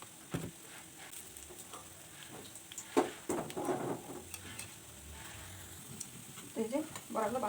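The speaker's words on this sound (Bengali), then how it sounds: "দিয়ে দিলাম ছোট মাছগুলো।" Small fish sizzle in hot oil in a pan for a potato curry, a steady close crackle broken by occasional stirring scrapes and louder bursts of spitting toward the end.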